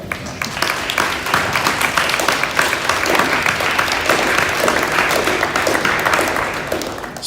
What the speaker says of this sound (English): give them a hand of applause for their sacrifice